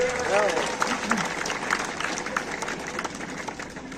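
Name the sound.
applause for a national-level kho kho player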